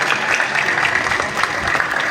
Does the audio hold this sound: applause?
yes